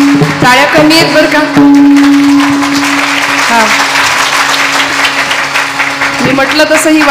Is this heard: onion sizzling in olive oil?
no